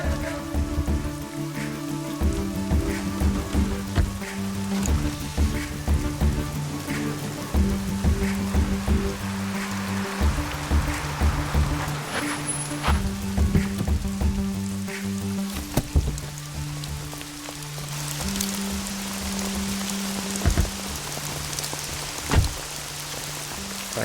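Steady rain falls at night outside an apartment, a dense wash of patter and hiss heard under a low, sustained musical score throughout.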